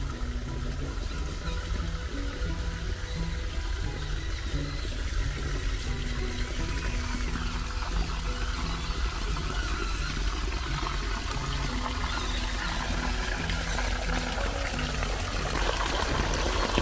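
A river waterfall streams steadily in the background of a small RC crawler run, with a constant rushing, pouring wash and a faint repeating motor tone layered on top, unchanging for the whole stretch.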